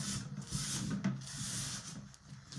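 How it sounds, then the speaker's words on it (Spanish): A small spot near the top of a brass umbrella stand is sanded by hand, with close, continuous rasping strokes in a steady back-and-forth rhythm and no voices. "Aquí arriba voy a lijar una gotina."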